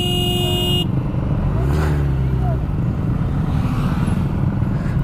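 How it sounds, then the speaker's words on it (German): A car horn sounds briefly, followed by another short honk over a loud, steady engine and road rumble, at a motorcycle meetup. "Bisschen hupen. Damit alle auch hupen."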